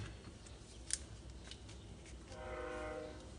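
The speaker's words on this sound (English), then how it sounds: "You probably hear a train." A distant train passes, with its horn sounding faintly as a drawn-out tone over a low background rumble in the second half, after a brief sharp click near the start.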